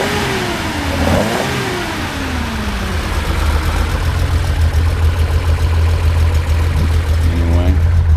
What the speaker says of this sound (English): it idles really nice